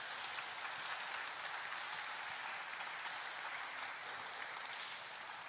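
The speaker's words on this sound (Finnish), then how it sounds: "toivon, että täältä tulee raikuvat aplodit meidän panelisteille" An audience at a Finnish panel discussion on entrepreneurship applauds the panelists, dense continuous clapping that is fairly distant and even in level throughout, with no speech over it.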